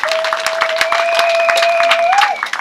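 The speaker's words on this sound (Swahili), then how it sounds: "Hebu tupigieni makofi tafadhali" Audience at a graduation ceremony applauding, a dense patter of many hands clapping steadily for about two seconds before fading, with a sustained whistle-like tone running over the claps.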